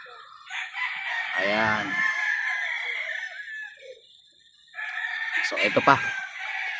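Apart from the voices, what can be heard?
rooster crowing at a game farm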